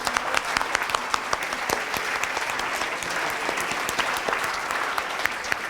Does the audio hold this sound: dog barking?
no